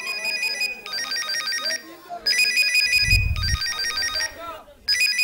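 A phone ringtone plays a loud, bright, repeating electronic melody in bursts separated by short pauses, with a low thump partway through.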